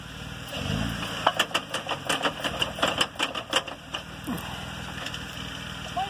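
A truck engine idling with U-joint bind, producing a rapid, uneven series of mechanical clicks and knocks over a low engine drone, moderately close and without speech.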